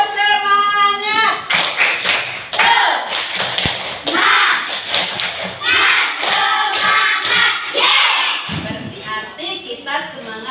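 A class of children performs a rhythmic 'tepuk semangat' clapping chant, sharp hand claps and slaps in patterned bursts mixed with loud chanting voices, recorded close in a classroom.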